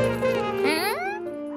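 A cartoon dog gives a short, high whimpering yip that slides upward in pitch, a single close whine lasting about a second, with no one speaking.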